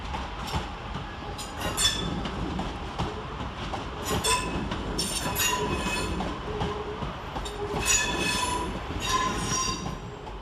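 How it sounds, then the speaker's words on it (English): A Northern train pulls into Manchester Piccadilly station, its wheels squealing repeatedly over a low rumble and rail clatter as the carriages roll in at a moderate distance. "Arriving to terminate with a Northern service off of Hatfield is 323231."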